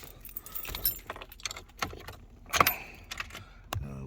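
Car keys jangle and clink close by as someone readies to start a Jeep with jumper clamps attached, a run of bright metallic rattles with a few sharper knocks and a short burst near the end.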